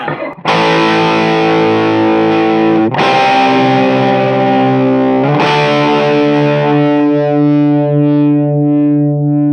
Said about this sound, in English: Now let's hear how it handles distortion. Bridge pickup, full on 10.